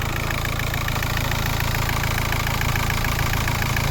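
A Volkswagen Caddy 1.9 TDI diesel engine, running slightly rough, idles close by with a steady, rhythmic clatter and low drone, loud and unbroken throughout.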